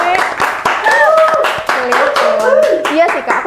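Hand clapping from a small audience during a campus podcast, rhythmic sharp claps repeating steadily while voices talk and laugh over them close by.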